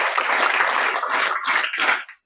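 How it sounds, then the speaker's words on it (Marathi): Students clapping in a school hall, a burst of dense applause that swells and dips a couple of times before stopping abruptly. "टाळ्या वाजवायला तुमच्यासाठीच."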